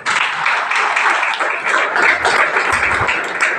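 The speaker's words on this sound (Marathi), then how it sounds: "एकदा यांच्यासाठी टाळ्या वाजवा." An audience claps together at a book-box reading-movement anniversary ceremony, a steady dense wash of applause that holds at an even level throughout, with no talk over it.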